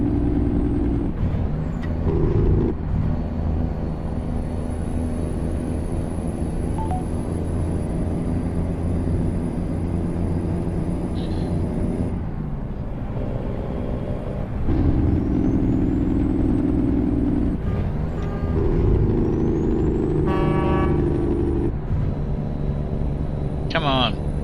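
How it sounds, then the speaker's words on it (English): Busy road traffic of cars and trucks produces a continuous heavy engine drone with passing vehicles and hissing air brakes, loud and sustained throughout, with faint voice-like sounds mixed in. "Look at the traffic I'm dealing with, actually."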